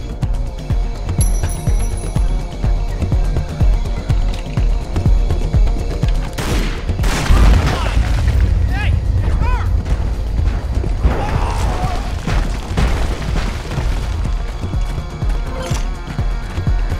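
Rapid gunfire from mercenaries in Tomb Raider Legend rattles in dense bursts over constant loud game noise and music, the heaviest volleys clustering in the middle.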